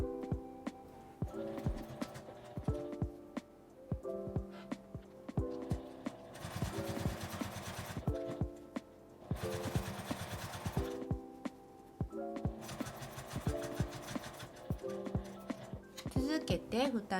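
A sewing machine stitches a fabric glasses case, the mouth opening and the lid, in quick mechanical bursts separated by short pauses, close and moderately loud, while someone talks over it.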